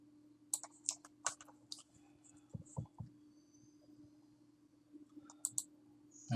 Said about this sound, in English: hit the inspector button, or right click and hit inspect